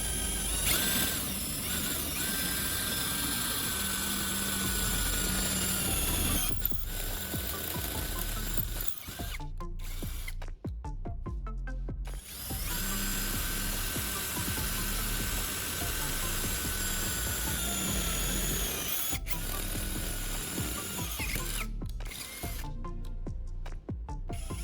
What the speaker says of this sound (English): The sharpened bit goes through the metal pipe much more easily